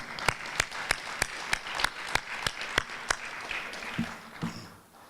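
Audience applause at a Merced County public forum on Common Core standards, a steady patter of claps with sharp individual hand slaps standing out in a rhythmic series before it thins and fades at the end.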